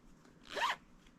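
A single quick zip of the zipper on a freshly sewn fabric zipper bag, soft and close, lasting under half a second in a quiet room.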